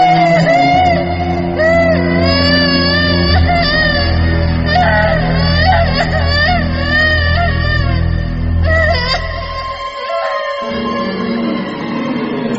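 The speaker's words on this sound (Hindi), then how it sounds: "किसी बच्चे के रोने की आवाज थी।" A child's wailing cry rising from inside a well in a horror tale, loud and sustained with wavering, layered tones that continue for several seconds before thinning out near the end.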